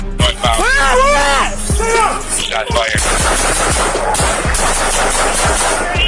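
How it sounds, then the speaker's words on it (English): Rapid rifle gunshots crack repeatedly at close range during a police shooting, a dense burst of sharp reports under loud shouting voices. "The policeman with the rifle then fires his weapon in the direction of the gunshots."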